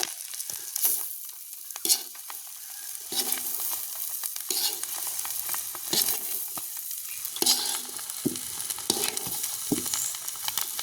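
Spatula stirring fried ingredients and steamed rice-flour puttu together in a hot pan for village-style puttu kothu, repeated scraping strokes over a soft sizzle, close and moderately loud.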